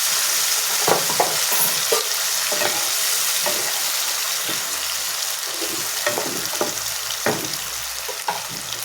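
A spoon stirs egg curry cooked in sour yogurt in a sizzling pan, with steady frying hiss and repeated scraping strokes close by and no talking.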